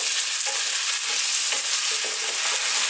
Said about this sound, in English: So these onions are cooking really nicely.